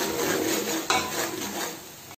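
Tomato, onion and ginger-garlic paste stirred in a pot with ghee for Dindigul thalapakatti mutton biryani, giving a steady scraping and clinking of a spoon against metal with a sharp knock partway through, close and continuous.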